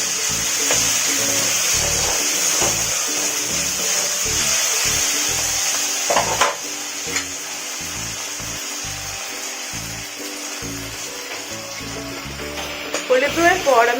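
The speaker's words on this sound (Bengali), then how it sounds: "হলুদ দেওয়ার পর আমি টমেটোটাকে ভালো করে মেখে নিলাম।" A spoon stirs and rubs chopped tomatoes with salt and turmeric in a pan for a cheese-ball kofta curry, a steady close scraping and soft sizzle with no talk.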